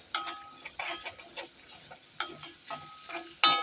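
A bitter gourd pickle mixture in a pan with ground asafoetida, fenugreek and mustard, stirred with a spoon: soft irregular scraping strokes over a faint sizzle, fairly quiet and close, no talking.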